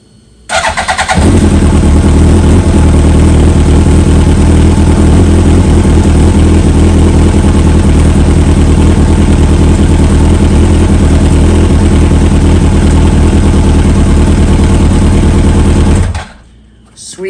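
A 2003 Yamaha R1 motorcycle engine starts and runs loudly and steadily up close for about fifteen seconds, then cuts off abruptly near the end.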